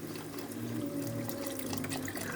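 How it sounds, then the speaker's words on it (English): Chicken broth poured into a pot of shrimp étouffée gravy, a steady close liquid pour running continuously without a break for a couple of seconds. "And we are about to add our chicken broth."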